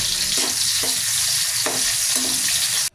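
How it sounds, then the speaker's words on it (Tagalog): Onion and garlic sautéing in a heated pan for a bitter melon dish, a loud continuous sizzle with a few soft stirring scrapes against the pan before the sound cuts off abruptly. "Pinainit ko na rin yung kawali at unahin lang muna natin na igisa itong sibuyas."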